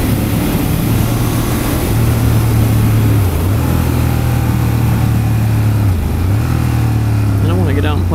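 A 2016 Ducati Monster 1200 R motorcycle engine runs loud and close with a steady droning tone that dips briefly twice as the throttle blips, while a rider talks throughout.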